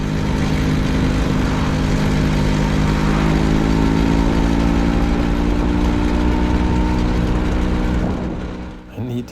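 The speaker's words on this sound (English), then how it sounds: "I need to fix the glove compartment's lid because it rattles quite a lot." Vespa PX scooter idling with its glove compartment lid rattling, a steady mid-pitched engine drone with buzzing vibration throughout, close and loud, fading out at the end.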